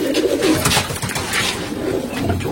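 An old pigeon, at least 12 to 15 years of age with its eyes closed, gives a continuous low, throaty coo, close and steady, with no voices.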